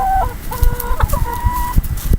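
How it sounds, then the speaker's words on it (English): Hens and roosters cluck in a backyard flock of eight hens and two roosters, with overlapping calls and a brief crowing note over steady low rumble, fairly close and continuous. "So I have 8 hens"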